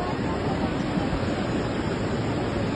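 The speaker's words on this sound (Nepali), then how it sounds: "ल खोलो गनाएर ठुलै आयो" A swollen river in flood near Banepa roars past as one dense, low, steady rush of water, loud and unbroken from start to finish.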